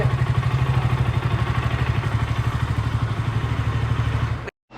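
A motorcycle engine chugs in a steady, close, pulsing rhythm as the bike is brought into the hall of a home, then cuts out abruptly.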